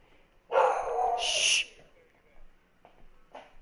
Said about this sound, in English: You stupid dog.